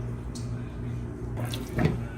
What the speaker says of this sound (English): drain off that little bit of water that I have there in the pan